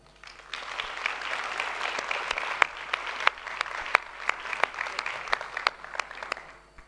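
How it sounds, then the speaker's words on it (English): Conference audience at a Cedefop 50th anniversary event claps to welcome a speaker, moderately distant applause building quickly and sustaining for several seconds with scattered sharp individual claps before fading. "Please give him a warm welcome."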